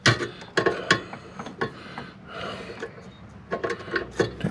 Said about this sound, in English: We're going to take out the screw right here at the very top.